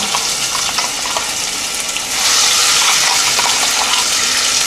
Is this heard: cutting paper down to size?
no